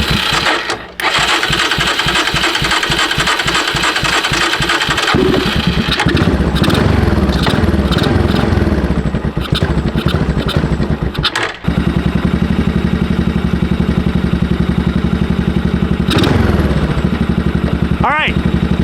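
A 1995 Honda FourTrax 200 ATV engine starts and settles into a loud, close, steady idle with a rapid regular putter, a few revs and clanks along the way, and someone speaking over it.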